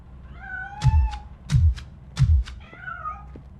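A cat hiding inside a piano in the RoboCop Rogue City game meows three times in a row, each a short, clear mew with a thump beneath, over a faint background tone.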